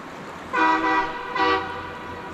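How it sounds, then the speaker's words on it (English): A bus horn beside a river sounds two loud tonal honks, each about half a second long, over quiet outdoor background. "It's distracted by that honking bus"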